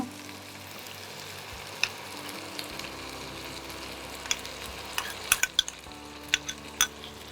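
Chicken fries in a pan with a green paste, a low, steady sizzle beneath scattered sharp clicks and taps as a utensil stirs against the pan.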